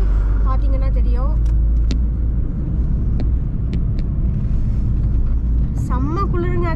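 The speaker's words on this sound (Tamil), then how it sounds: "இங்க பார்த்தீங்கன்னா மிலிட்ரி வண்டி போயிட்டே இருக்கு எப்பயுமே" Military vehicles roll past on the mountain road to Srinagar, Kashmir, a heavy low rumble of engines close by with rising and falling motor whine, while a voice speaks over it.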